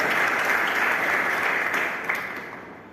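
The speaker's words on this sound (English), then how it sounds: "So he deserved a big round of applause." Loud, dense applause from an audience at an academic event, steady for most of the three seconds before thinning and fading toward the end.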